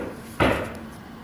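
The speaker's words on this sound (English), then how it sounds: "She hears a knock at the door and goes to check the peephole" A single sharp knock on a door in a cartoon, one close wooden thud standing out from a quiet background.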